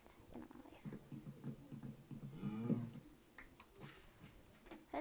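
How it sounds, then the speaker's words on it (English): A Minecraft cow gives a drawn-out low moo in the middle of a stretch of quieter game sounds, fairly close and clear, with no talking. "Hello, cow."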